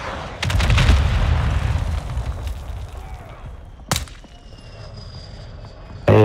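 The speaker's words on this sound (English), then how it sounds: "this has got like a grenade launcher with fireworks or something" A grenade launcher loaded with firework rounds fires in Call of Duty Modern Warfare 2: loud bursts and booms open the clip, followed by a sharp crack partway through and another blast at the end, with no talking over the gunfire.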